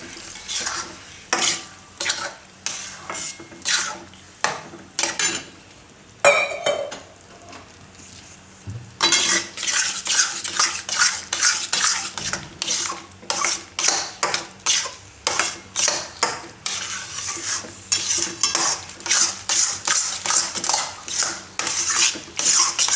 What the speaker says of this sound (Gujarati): બધું દૂધ આમાં મિક્સ કરવાનું.